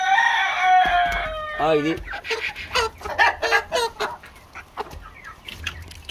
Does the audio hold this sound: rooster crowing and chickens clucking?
yes